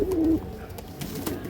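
Pure-bred pigeons coo in a short, near throaty call at the start, followed by softer murmuring against a low background rumble.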